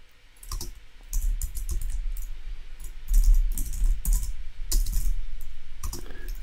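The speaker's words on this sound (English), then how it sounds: "I've opened my console and I'm gonna type geth" Computer keyboard keys tapped in quick uneven bursts while typing a console command, close and fairly loud with brief pauses, no talk.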